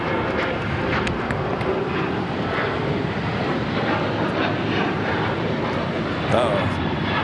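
Airliner taking off from a runway at Los Angeles LAX airport, a loud, steady engine roar heard from a distance that holds throughout, with a voice talking over it.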